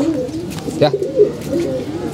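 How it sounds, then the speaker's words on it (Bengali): Pigeons, including Jalali pigeons, coo softly at dusk in a backyard coop, a few low murmuring calls rising over a faint background hum. "এই যে কবুতরগুলা, এই যে জালালিরা, এই যে মোরগ"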